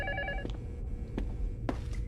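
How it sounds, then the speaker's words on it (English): Telephone ringing in a horror video game, a faint electronic ring with tonal bursts at the start followed by a few short repeated rings. "Answer the phone."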